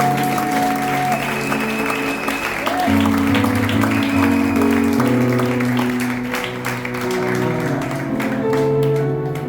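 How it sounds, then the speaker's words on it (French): A church congregation at a Sunday service applauds the pastor, a dense continuous clapping crowd with voices mixed in and sustained tones running underneath. "Acclame le Seigneur pour le pasteur."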